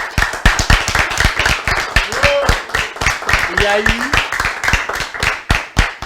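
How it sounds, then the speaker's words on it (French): An audience claps in a fairly fast rhythm for the head of state, individual sharp claps close and distinct, with someone speaking over the clapping throughout. "on ne peut pas applaudir pour le chef de l'État?"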